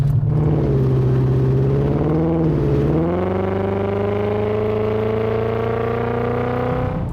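A Volkswagen Passat W8 engine is held at full throttle with kickdown engaged, a loud droning rev that rises slowly and steadily from inside the car, with no talk over it.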